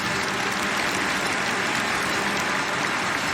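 Stadium crowd of over 13,000 at BMO Field applauding during a CFL football game, a dense, steady roar of clapping and crowd noise with no break.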